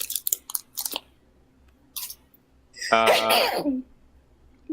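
A loud, close sneeze bursts out after some soft rustling and brief mouth sounds.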